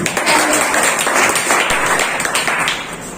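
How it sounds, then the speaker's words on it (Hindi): A crowd claps together in a dense, steady burst of applause that holds for a few seconds before thinning slightly. "अगर हमारी परिस्थिति पसंद आई तो तालियां बजाइए"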